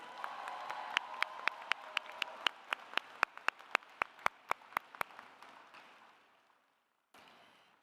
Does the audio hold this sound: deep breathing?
no